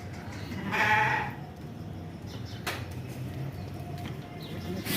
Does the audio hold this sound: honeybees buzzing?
no